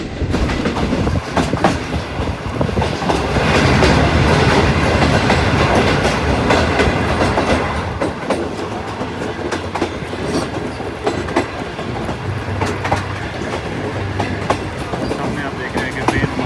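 Awam Express passenger train running on its new rake between Peshawar and Rawalpindi near Attock, entering a tunnel: loud, steady rumble and clatter of wheels on track, continuous and close, with the roar deepening as it goes in.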